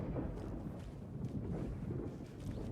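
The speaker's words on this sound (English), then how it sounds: "it's starting to storm outside" Thunderstorm ambience from the video game Alan Wake 2 heard from indoors: a steady, low, rumbling wash of rain and distant thunder, faint and continuous with no distinct cracks.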